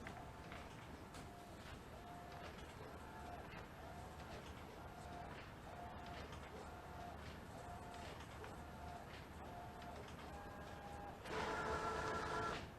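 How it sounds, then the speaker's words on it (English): An Epson SureColor F570 printer runs through a print job in a quiet, steady mechanical hum, with a regular repeating carriage tone that turns louder and busier near the end. "So it's printing out. This printer prints pretty fast."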